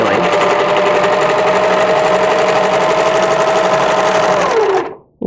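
A serger stitching a dart on a Butterick 6928 wrap dress runs as one loud, close, continuous high-speed whir for about five seconds, then stops abruptly and leaves a brief pause before a faint restart.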